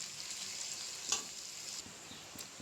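Onions frying in a pan, cooked briefly until just softened: a soft, steady sizzle with a few light stirring clicks, fairly quiet and with no voices.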